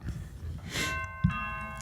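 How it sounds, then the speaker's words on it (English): A doorbell chimes, its clear ringing tones sustaining and fading over a soft background thump. "With SimpliSafe's Video Doorbell Pro"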